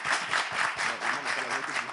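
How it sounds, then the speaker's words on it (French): A television studio audience applauds steadily, a dense wash of clapping hands sustained for a couple of seconds with no talk over it. "On applaudit."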